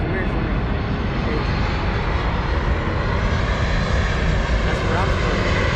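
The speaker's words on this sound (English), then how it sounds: "I'm supposed to be on that plane right there, arriving from Australia or somewhere else." An airplane flies overhead, its engine roaring as a loud, steady broadband drone throughout, with voices talking underneath.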